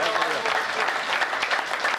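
An audience at a Hindi poetry recitation breaks into applause, a dense burst of clapping with a little crowd murmur and a voice faintly under it, holding steady and fairly loud throughout.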